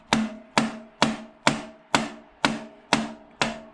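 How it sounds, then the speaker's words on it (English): Eight sharp metallic hammer blows on a fork part of a 2014 Kawasaki ZX-6R motorcycle land in a steady, even rhythm, each ringing briefly before the next strike. "I'll probably hammer it on right here or off."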